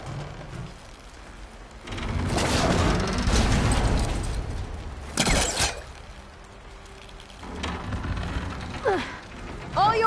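A rebel ballista mechanism in Horizon Forbidden West winding and firing a bolt at a dam, a loud sustained mechanical rumble and clatter followed by a sharp crack, with voices talking around it.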